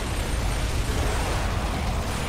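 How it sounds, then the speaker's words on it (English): Enemy blowing apart in Gears of War 2, a dense, loud, continuous burst of explosive rumble and crackle filling the whole moment without letup. "Oh, he just exploded."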